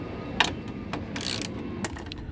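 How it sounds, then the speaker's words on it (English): A hand ratchet fitted with a 12mm socket and an extension turns screws loose on a 1999 Ford Super Duty front end, giving a few quiet, scattered clicks and mechanical ticks, close but faint with no talk. "You want to use a 12mm socket. I use it with an extension."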